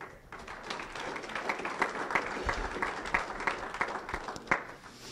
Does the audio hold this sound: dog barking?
no